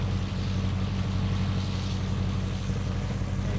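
A steady, low engine idle rumbles continuously nearby after a cold start of a Subaru with 49,000 original miles, even and unbroken, with no voices.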